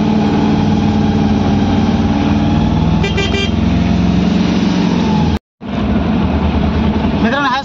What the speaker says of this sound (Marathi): बघू शकता ट्रॅफिक केवढी.